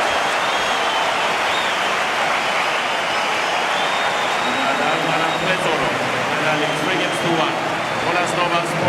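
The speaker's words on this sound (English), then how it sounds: "And the biggest cheer of the evening" A tennis crowd cheers after Nadal breaks serve in Madrid, a loud, sustained roar and applause filling the whole stretch while a commentator talks over it.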